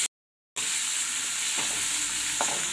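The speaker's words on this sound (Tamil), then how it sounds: "இதையும் சேர்த்து நல்லா வதக்கிக்கோங்க." Capsicum egg poriyal sautéing in a pan: a steady, loud sizzle and hiss starts after a brief silence, with a couple of soft scraping stirs partway through.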